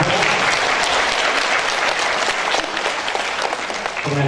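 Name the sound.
audience of women applauding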